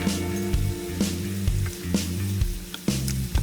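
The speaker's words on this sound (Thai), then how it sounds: "แล้วผัดให้ส่วนผสมเข้ากัน" Seafood instant noodles stir-fried in a hot pan for drunken noodles, a steady loud sizzle with scraping stir strokes about every half second, no talk.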